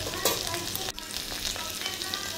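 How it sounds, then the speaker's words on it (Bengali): Okra sizzles in white cooking oil in a wok, a dense and steady frying crackle at close range with no talking. "এবার কড়াতে সাদা তেল দিয়ে ঢ্যাঁড়সগুলো সব দিয়ে দিলাম।"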